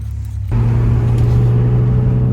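A stage 2 tuned BMW E46 M3 with a 6-speed engine fires up and holds a loud, steady low drone while warming up, close by and alone.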